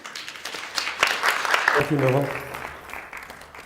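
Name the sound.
audience applause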